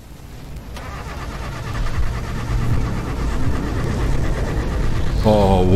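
A car engine turns over and builds into a rising, steady drone as the vehicle pulls away, with a voice speaking briefly near the end.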